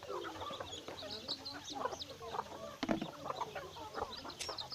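Chickens on a rural Philippine farm cluck steadily alongside the high, peeping chirps of chicks. The calls overlap continuously at moderate, fairly close range, with no voices over them.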